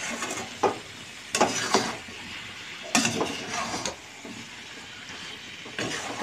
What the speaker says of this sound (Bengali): এবার আমি 10 মিনিট ধরে মাংসটা কষিয়ে নেব।